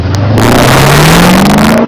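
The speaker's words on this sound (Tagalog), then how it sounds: "nakuha ko ultimate dream car ko na Camaro" A Chevrolet Camaro engine revs loudly and up close, its pitch climbing steadily through one long acceleration before cutting off abruptly at the end.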